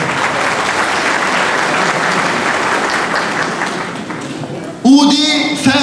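A concert audience at a performance by a choir of religious officials claps loudly and evenly for a few seconds. Near the end the applause fades and a voice begins speaking.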